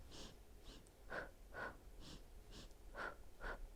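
Deep, rhythmic breathing during a Pilates exercise, close and quiet, with about eight airy inhales and exhales in steady succession and no talking.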